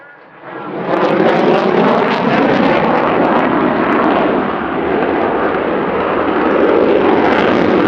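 A military jet makes a flypast at the RAF Cosford Air Show in 2025, its roar swelling quickly from quiet to a loud sustained rumble that holds steady with a slight dip before building again.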